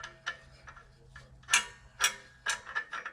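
Metal nut being threaded by hand onto a shaft during a modified clutch install on a Yamaha Grizzly 700 ATV, giving a string of light, close ratcheting clicks and ticks in uneven bursts, with no talking.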